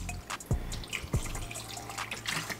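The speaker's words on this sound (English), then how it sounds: "But now we're gonna put some water." Water poured into a shake container holding one scoop of protein powder, heard as a quiet, close trickle with a couple of drip-like plops, in a small indoor space.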